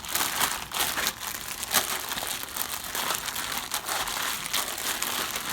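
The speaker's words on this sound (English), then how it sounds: "So you're trying to squish the clay and the paper together." Paper clay gets kneaded and squished inside a sealed plastic bag, producing a continuous close crinkling and crackling of plastic with irregular soft crunches and no pauses.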